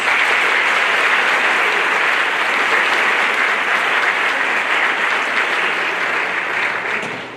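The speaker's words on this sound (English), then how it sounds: "please let's give them all a round of applause." Sustained applause from a crowd at a National Honor Society induction ceremony, a dense, steady wash of clapping that holds for several seconds before starting to fade.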